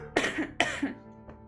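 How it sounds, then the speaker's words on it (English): Two sharp, close coughs in quick succession, followed by a faint throat-clearing sound. "I probably will be coughing a little bit today"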